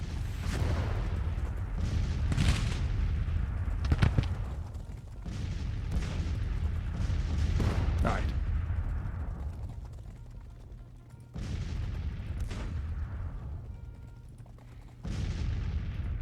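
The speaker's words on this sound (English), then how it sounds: "We'll give their artillery a bit more fire because we're already engaged." Artillery in a Total War American Civil War mod booms in heavy, separated blasts, several cannon shots spaced irregularly and each trailing off into a low rumble of battlefield ambience.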